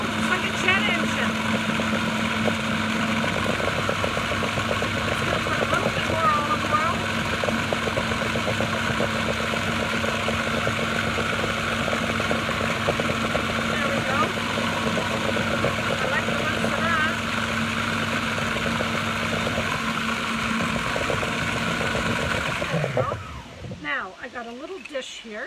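A kitchen blender whirs loudly and steadily for about twenty seconds while blending roasted red pepper hummus, a dense, roaring motor drone that then cuts out abruptly near the end.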